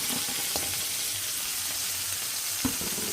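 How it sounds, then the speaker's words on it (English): Broken-up ramen noodles sizzle in hot oil in a wok, a steady close crackling hiss with a couple of soft knocks and clinks, and no voices. "now to this empty sizzling pot of oil, we're going to add our ramen."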